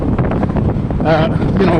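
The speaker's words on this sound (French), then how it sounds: "And it's so windy. You probably hear it." Strong wind buffets the microphone outdoors beside the Lachine Canal, a steady low rumbling roar that runs the whole way through with no break.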